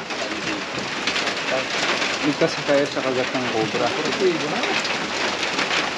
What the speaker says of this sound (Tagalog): Biglang lumakas ng ulan guys